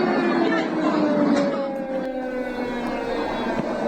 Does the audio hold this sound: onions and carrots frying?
no